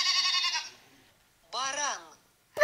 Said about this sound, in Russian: Коза.